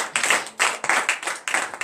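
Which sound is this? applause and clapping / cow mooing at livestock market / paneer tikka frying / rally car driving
applause and clapping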